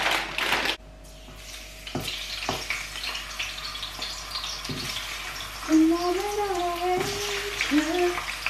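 Peanuts cooking in a pan give a steady, soft hiss and sizzle with scattered scraping clatters and knocks, and a voice-like tonal sweep rises late in the clip over the frying noise.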